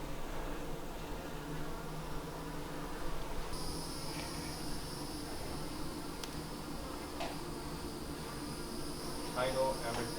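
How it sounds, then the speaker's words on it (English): A swarm of bees hums from a nest inside the garage of an abandoned Florida mansion, a steady, faint, continuous buzz heard from a short distance, with occasional thin insect whines. "There's a whole massive bee's nest over there, so we've got to be very careful."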